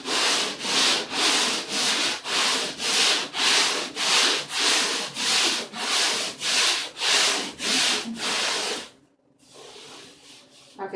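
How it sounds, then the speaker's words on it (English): A drywall patch is sanded by hand in steady back-and-forth strokes, about a dozen even, rhythmic scrapes close up, ending abruptly before a quieter pause. "So it's going to be my first time sanding over a patch."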